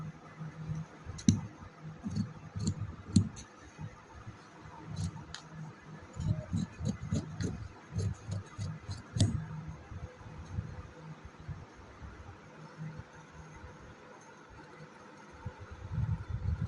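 Sharp scissor snips cutting through fabric for a front neck design, a series of crisp clicks in irregular bursts with pauses between, close and fairly clear over a faint steady background hum.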